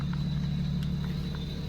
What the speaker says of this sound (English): Car is on, we're letting it idle for 20 minutes